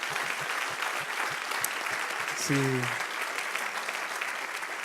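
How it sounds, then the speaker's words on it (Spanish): A church congregation applauds steadily through the whole stretch, dense clapping from many hands in a reverberant hall, while a voice briefly speaks over it near the middle. "Pueden dar un aplauso."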